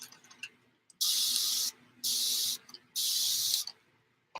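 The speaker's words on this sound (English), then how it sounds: "I must spray a little bit of water in there." Three long hissing bursts of water from a spray bottle, each lasting over half a second with short pauses between, close and fairly loud over a quiet room during gel plate printing.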